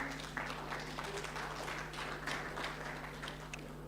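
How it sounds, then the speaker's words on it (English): An audience claps for award recipients at a Sacco summit, a moderate, somewhat distant patter of applause over a steady low electrical hum, with faint voices underneath. "can we give them a clap?"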